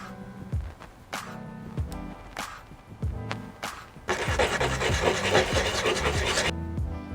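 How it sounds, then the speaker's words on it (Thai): A metal part for an i.suk Emboss v3 spinning pen is cut by hand, with irregular scraping and rasping strokes followed by a dense, louder stretch of continuous grinding near the middle, close up with no talk. "เดี๋ยวผมตัดออกมา5เซนติเมตรก่อนแล้วกันครับผม"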